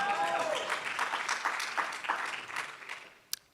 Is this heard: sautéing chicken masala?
no